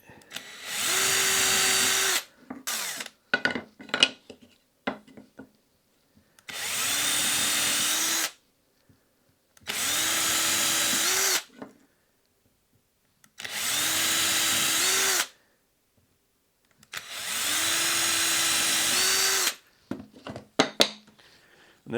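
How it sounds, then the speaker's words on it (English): A power drill with a small bit bores pilot holes all the way through wood, running in five long, loud bursts of steady whine with short pauses between them. "use a small drill bit and just drill these all the way through"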